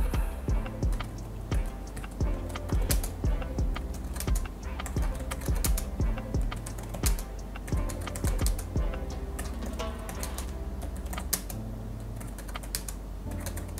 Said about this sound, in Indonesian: kalau ngetik itu kadang-kadang typo gitu